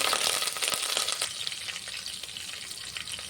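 Green chillies and curry leaves fry in hot oil, a close, steady crackling sizzle with sharp pops early on that eases slightly toward the end.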